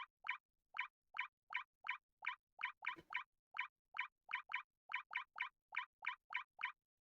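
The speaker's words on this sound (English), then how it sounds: "this Mario 64 penguin walking sound?" A penguin's footsteps from the video game Super Mario 64 patter as quick, evenly spaced plopping squeaks in a steady rhythm, with one brief thud partway through and no talk.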